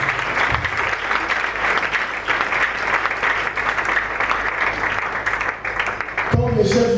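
A church congregation at a Congolese revival assembly plenary applauds and cheers for Jesus, with dense, loud, sustained clapping filling the hall for several seconds before breaking off near the end.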